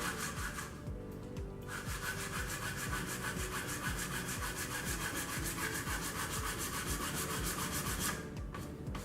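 Steady rhythmic sandpaper rubbing back and forth with the grain on wood for a tic-tac-toe game, continuous scratchy strokes for several seconds, close and moderately loud with no talking.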